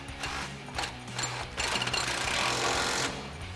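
An impact wrench with a 19 mm socket tightens a nut on a Jeep Wrangler JK lift-kit spacer, rattling and hammering in quick bursts that grow denser and louder, close by.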